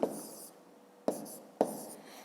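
Numbers are written by hand for a fifth-grade subtraction exercise, pen scratching across paper close by in three quick bursts, each starting with a tap, quiet and without speech.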